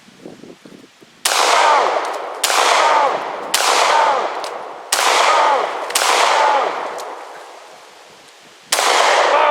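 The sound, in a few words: guns shooting at concrete blocks in ballistic test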